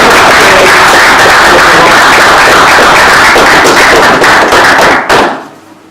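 Sustained, loud applause from an audience at a Toastmasters speaking event, dense clapping filling the room for about five seconds before cutting off and fading to quiet.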